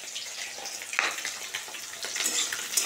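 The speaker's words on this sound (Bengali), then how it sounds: "আর এইখানে তো মাছ ভাজা হচ্ছে" Bata fish frying in hot oil in a home kitchen, a steady close crackling sizzle with small pops scattered throughout.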